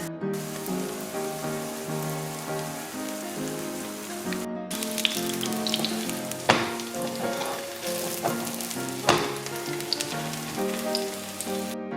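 A kimchi pancake fries in an oiled pan with a soft, steady crackling sizzle like light rain, heard up close under background music, with a few brief louder pops.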